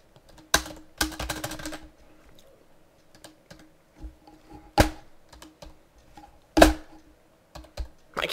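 Someone types on a computer keyboard in sparse, uneven runs of sharp clicks, with a few louder bursts and quiet gaps between, and no talking.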